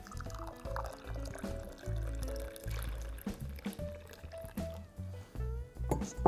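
Water pours and trickles onto pour-over coffee grounds in a soft, close, uneven stream with small drips and splashes, fairly quiet and with no talking.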